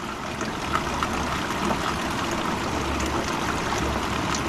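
Water trickling and flowing steadily through a Platypus gravity water filter while wild camping in the Elan Valley, Wales, a continuous soft gurgling stream at close range.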